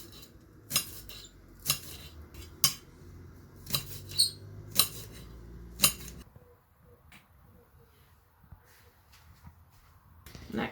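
A knife chops green onion on a board in about eight sharp, evenly spaced knocks, close and distinct. A quieter stretch of faint handling follows.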